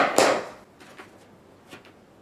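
A single crisp snip of scissors cutting weaving yarn on a tapestry, close and brief, followed by a couple of faint soft taps and handling sounds.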